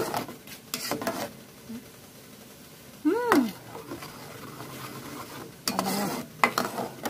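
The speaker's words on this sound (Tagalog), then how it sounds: "Kailangan halo lang ng halo." Cake batter for a chocolate moist cake stirred in a pan on a stove, soft scraping strokes coming and going between spoken words, with a brief higher-pitched squeak midway.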